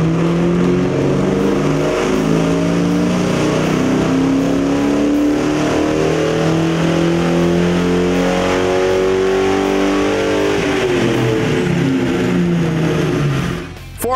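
A stock 2003 Ford Mustang GT with a 4.6-liter V8, Bassani off-road midpipe, Borla catback and cold air intake runs on a dyno, a loud continuous engine roar climbing steadily in pitch through a long pull before cutting off near the end.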